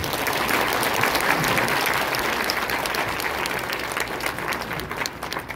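A crowd at a political party gathering claps steadily and densely for several seconds, tapering slightly toward the end.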